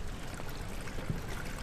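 Water falls like rain in the Amnesia video game, a soft, continuous trickling and splashing wash at low volume.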